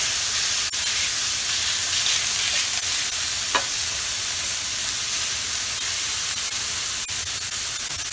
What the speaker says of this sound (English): So this meat's not going to take generally too long to cook, a couple of minutes, being sliced down like it is.